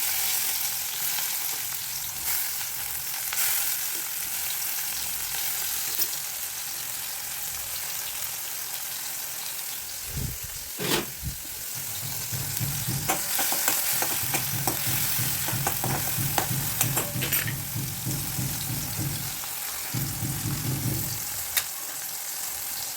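Onion and tomato fry in a pan for a sprouted matki breakfast dish, giving a continuous close sizzle with scraping stirs and crackles throughout.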